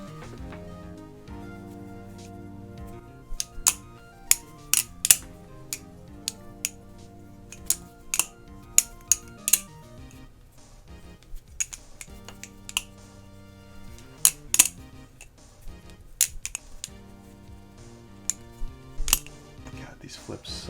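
An EX10 balisong butterfly knife is flipped repeatedly, giving sharp metallic clicks and clacks in irregular bursts over quiet background music, close and crisp.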